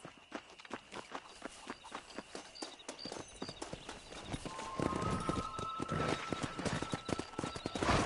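Horse hooves clip-clop in a quick, steady rhythm while riding in the Red Dead Redemption video game, starting light and growing louder and denser into a gallop with a faint tonal hum underneath.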